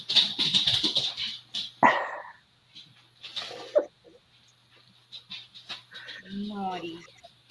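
A small house dog barks in a living room, several sharp yaps and whimpers scattered among indoor chatter from someone speaking nearby.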